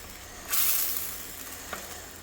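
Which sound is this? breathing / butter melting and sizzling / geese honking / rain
butter melting and sizzling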